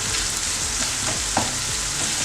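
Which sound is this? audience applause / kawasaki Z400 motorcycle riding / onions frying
onions frying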